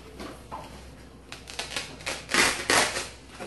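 Banana leaves torn apart by hand, softened for wrapping moi moi, give a series of dry, crackly ripping bursts that grow louder and more frequent toward the end, close by and with no talking.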